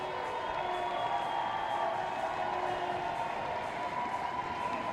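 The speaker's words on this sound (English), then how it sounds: "Big round of applause there for the fans that have come out to support both Sweden and Great Britain" A crowd applauds and cheers steadily at a women's American football match between Great Britain and Sweden, a continuous broad wash of clapping heard at some distance.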